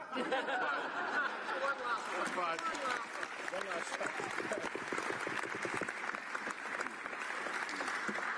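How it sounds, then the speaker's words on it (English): Applause from members in a parliamentary chamber during a farewell speech, fairly faint and steady, mixed with murmured chatter and some laughter. "I'll accept the applause today"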